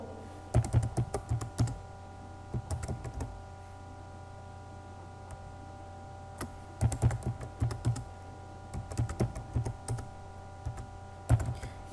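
A password is typed on a computer keyboard in two quick bursts of clicking keystrokes separated by a pause, close and crisp over a quiet background.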